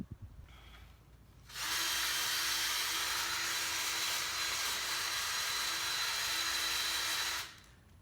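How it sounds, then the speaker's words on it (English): A power drill with a sanding attachment whines loudly as it strips rust from a metal gym equipment piece, starting abruptly, holding a steady high grinding hiss for about six seconds, then cutting off. "As you can see, I'm turning the drill"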